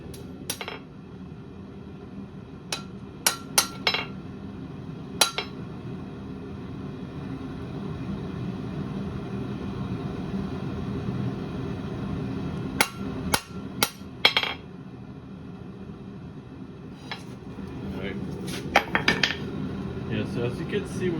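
A blacksmith's hammer beats hot steel on an anvil to draw out a point, in scattered bursts of sharp metallic clangs with long pauses between them, close by over a steady low workshop rumble.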